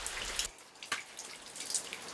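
Rain falling outdoors on a rural day, a soft steady patter with scattered brighter drips standing out at irregular moments, fairly faint and close by.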